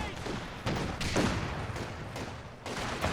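Schwer HQ gunfire rattles in a real-time strategy battle, a cluttered mix of bursts and sharp reports in uneven clusters, moderately loud amid general battle noise.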